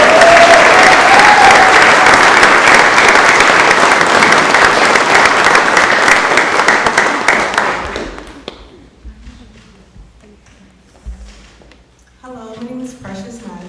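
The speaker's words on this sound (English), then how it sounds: "let's all give her a huge round of applause" Loud, dense crowd applause at an apartment complex grand opening in Fresno, California, sustained for several seconds before dying away into near quiet, followed by a person beginning to speak.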